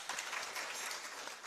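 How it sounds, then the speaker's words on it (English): An audience at a county budget transparency survey launch claps for civil society organizations, a dense burst of applause with sharp individual claps, sustained and fairly close, with no talking. "Please give them a clap."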